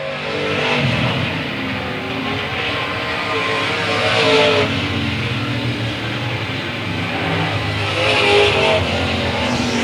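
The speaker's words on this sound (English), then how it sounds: "And we got one spun around and facing the wrong way early is Landon Farquhar." Race cars at a speedway oval during a race as one spins out, heard as a loud, continuous roar of engines from a distance with rising and falling surges as the pack circulates.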